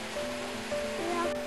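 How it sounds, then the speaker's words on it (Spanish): Several small waterfalls at the source of the Urederra river, heard as a steady broadband rush of falling water that runs unbroken throughout, with faint tonal sounds over it and no speech. "Es que aquí hay unas cuantas cascadas."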